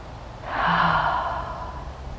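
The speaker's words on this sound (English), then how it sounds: "So let's take a deep breath." A single deep breath drawn in and let out slowly during a meditation, a close, airy rush that swells and fades over about a second, alone without talk.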